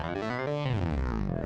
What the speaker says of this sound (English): Glissando sounds like this.